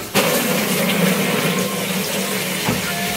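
A pink plastic bucket fills from a running tap with about two liters of water for autoclave cleaning in a clinic, giving a steady, close rushing splash throughout with no talk.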